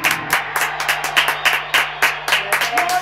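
An audience applauds in loud, rhythmic bursts of clapping that pulse about four times a second, over a steady low hum.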